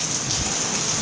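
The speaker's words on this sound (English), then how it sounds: "Too bad it's raining." Steady rain hissing around a group riding motorcycles on scenic Arkansas roads, a continuous broadband wash with low rumble beneath, constant and fairly loud throughout.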